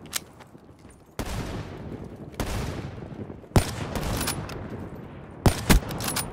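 Sniper rifle and other gunfire from Call of Duty: Black Ops 3 multiplayer, with several loud, abrupt shots and bursts separated by short gaps and trailing into echoing noise.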